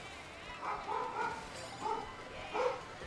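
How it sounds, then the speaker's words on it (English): Dogs bark outdoors at a distance, a few muffled, spaced-out woofs over a low background hum. "what lovely sounds you're making out there, dogs"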